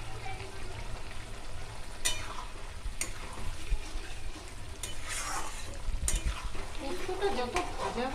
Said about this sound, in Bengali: পোস্তটা কষানো প্রায় রেডি কষানো হয়ে এসছে